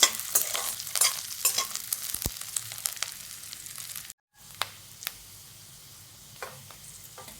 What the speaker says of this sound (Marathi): कांदा थोडा लाल होतोपर्यंत परतून घ्यायचा.